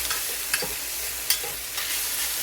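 A metal spatula chops and breaks up ground beef sizzling on a flat-top griddle, with a few sharp scraping taps over a constant bright frying hiss.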